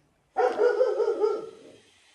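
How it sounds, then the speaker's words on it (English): A single dog bark followed by a short drawn-out yelping cry, close and loud, heard alone near an observatory dome. "Looks like I picked the wrong day to film a dog-free observatory tour."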